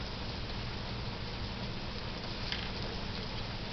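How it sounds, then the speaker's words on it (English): Rain falls steadily outdoors where someone is working, making a constant, even hiss of patter with no let-up and no voices. "It's not raining too bad."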